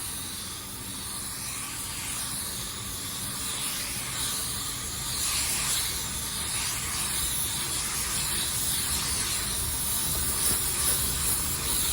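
A paint spray gun sprays a wet coat onto a car: a steady, soft, continuous hiss of atomized paint with no voices.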